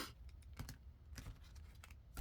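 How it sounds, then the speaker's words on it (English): A deck of playing cards is cut three times by hand, producing soft, faint card slaps and brushes spaced apart in a quiet room. "let's cut the cards 3 times"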